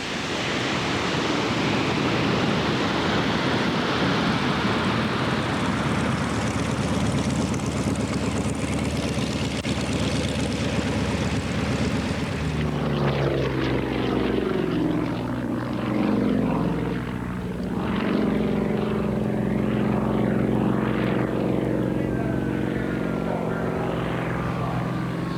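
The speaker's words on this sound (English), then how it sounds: "Okay, in come the reversers." A roaring Antonov An-124 jet lands with thrust reversers deployed, a loud broadband rush for the first half that cuts back to a lower, rumbling whine with fluttering tones as it slows.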